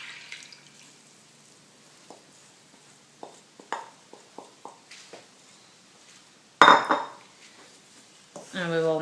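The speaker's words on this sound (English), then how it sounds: "My yeast mixture is done. So let's add it to the flour." A yeast mixture, with an egg already in, is added to flour in a bowl for Czech bread dumplings. Soft, scattered utensil clinks lead to one loud pouring clatter, and a voice speaks briefly near the end.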